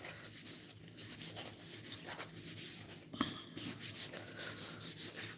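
Produce being scrubbed by hand before juicing for a green juice: close, quiet rubbing strokes repeat in a steady rhythm, with one brief sharper knock midway and no talking.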